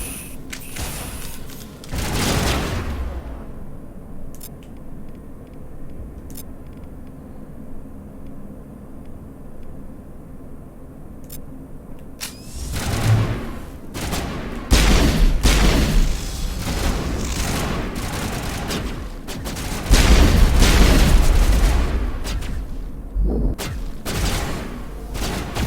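Pistol gunfire in the sci-fi shooter Mass Effect on the snowy world of Noveria, with a sharp opening burst, a quieter stretch of sparse cracks, then dense, loud volleys of shots and impacts toward the end.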